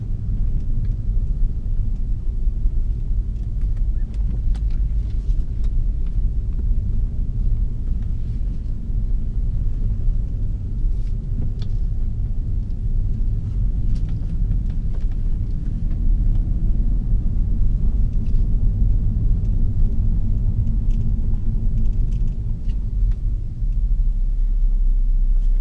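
A 2005 BMW 525xi E60 with about 191,000 miles drives on the road, giving a steady, loud low engine and road rumble with tire noise that carries on without a break.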